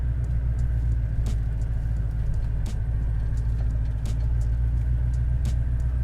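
A supercharged GMC Sierra truck engine idles with a deep, loud rumble, a steady lumpy cammed throb and occasional sharper ticks, close by and continuous with no talking.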